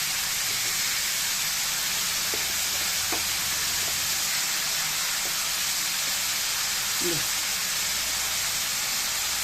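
Green tomatoes frying in a pan with turmeric powder and salt give a steady, even sizzle and hiss throughout, with a few faint clicks of stirring. A voice speaks softly over it.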